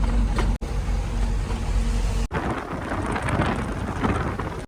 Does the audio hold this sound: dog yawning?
no